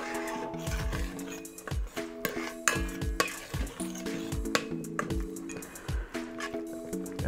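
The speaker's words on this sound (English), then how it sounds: "Go ahead and stir that in." A spoon stirs fish sauce into collard greens inside an Instant Pot, giving rhythmic wet squelches and sloshes with soft knocks against the pot, close and fairly loud.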